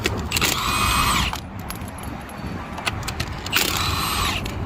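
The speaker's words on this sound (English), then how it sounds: "18-volt drill" Two bursts from an 18-volt cordless drill loosening lug nuts on a Toyota Tacoma by a busy road, each a second or so of whirring with a gap of steady traffic rumble between them.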